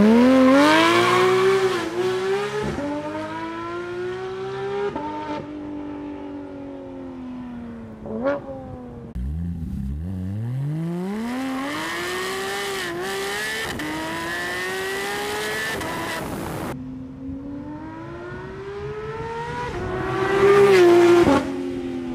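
A Porsche GT3 RS launches hard under launch control, its engine screaming up through repeated rising gear pulls with brief breaks at each shift, loud and close, before rising again at the end.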